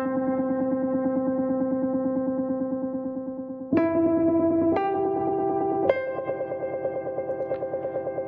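Frostbite 2 by AudioThing processes a sustained synth tone through its church effect, a drone that shifts pitch in three sudden steps, each struck with a sharp attack and wrapped in long echoing reverb, heard alone.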